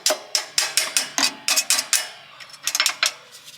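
Rapid, sharp taps of a hammer on a 1957 car's metal king pin safety strap, about a dozen crisp strikes in a quick steady rhythm, close and clear.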